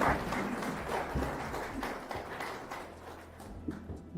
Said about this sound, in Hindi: आदरणीय आरबी द्विवेदी सर के लिए ताली बजाइए आप लोग